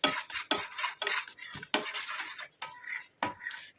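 Coffee powder face pack paste stirred in a bowl, a series of close scraping strokes and spoon clinks against the bowl in an uneven rhythm, with no voices.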